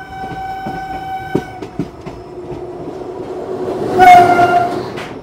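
A late-running AC two-tier express train rolls into Farakka station, its steady rumble and wheel clatter carrying a sustained horn tone, then rising louder with a bright horn blast near the end.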